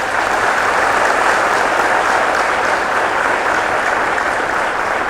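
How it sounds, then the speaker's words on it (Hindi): Sustained, dense applause from an audience at a ceremony honoring NIMCET 2023 toppers, steady and loud throughout with no pauses. "उन सभी के लिए एक बार जोरदार तालियां"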